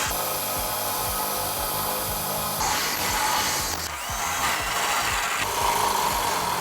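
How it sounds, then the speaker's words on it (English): Drilling four 5/8-inch holes for a trailer hitch on a 2003 Ford Crown Victoria: a steady, close grinding whine of the bit biting through metal, continuous for the whole stretch with slight shifts in pitch and pressure, no talking. "using a 5/8 drill bit, we're going to drill all 4 of our holes"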